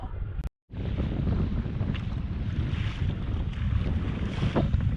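Strong sea headwind of about 18 to 20 knots buffeting a sea kayaker among islands, a constant loud roar of wind noise with water wash beneath and a brief dropout near the start.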